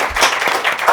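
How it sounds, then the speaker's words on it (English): Attendees of a women's HR leadership masterclass break into a brief burst of applause, close and fairly loud, cut off after under a second. "So I want us to give one last round of applause."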